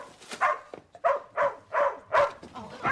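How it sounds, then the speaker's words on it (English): A dog barks repeatedly in short, evenly spaced bursts, about six yaps in quick succession, close and loud, with no other sound between them. "McKinley, get that dog out of here"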